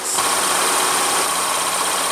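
A 2016 Chevrolet Colorado Z71 pickup with its 3.6 L V6 running, a steady, loud, close engine drone with an even whirring hum and no talk over it.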